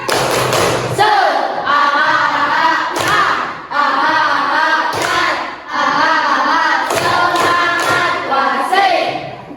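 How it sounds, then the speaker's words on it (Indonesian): A class of sixth-grade pupils performs a rhythmic spirit clap, loud bursts of hand claps and thumps falling in repeated patterns, with short pauses and some shouted voices between the sections. "Tepuk semangat."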